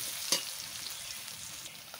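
Chopped onion and garlic sizzle in a thin layer of oil for chilli chicken, a faint steady crackle with one sharp clink of a utensil near the start and small scrapes later.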